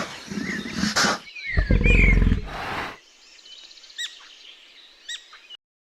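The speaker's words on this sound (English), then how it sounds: "Mountain lion." A mountain lion gives loud, harsh roaring growls and snarls in bursts over the first three seconds. Fainter bird chirps follow in the quiet background.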